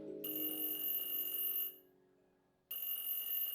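An electronic telephone ring in a visual novel game sounds twice: a bright steady trill runs for over a second, breaks off into near silence, then starts again, clear and up close with no talking.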